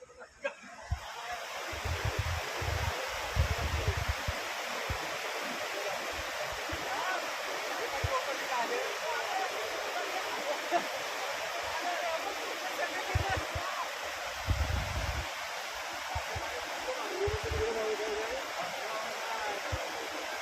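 A river in Tivare village, Chiplun taluka, Ratnagiri, swollen after cloudburst-like heavy rain, roars in a loud, steady, unbroken rush of water throughout, with a few faint voices now and then.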